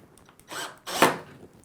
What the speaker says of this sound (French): Ça y est, on a vissé